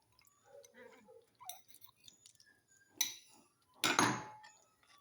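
Thick first coconut milk going into a pan and being mixed, heard as a few close clinks and scrapes of a utensil, with two louder bursts near the end and quiet talk in between.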